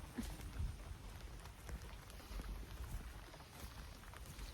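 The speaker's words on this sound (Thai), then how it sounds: "ฝนตกหยิบหยิบ" Soft, steady patter of light rain falling on surfaces, faint and continuous with scattered drips and no voices.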